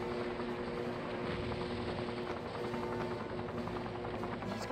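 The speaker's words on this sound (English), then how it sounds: "I want to grab onto a police helicopter." A police helicopter in The Incredibles video game drones on steadily, a continuous buzzing rotor hum at moderate level with no pauses.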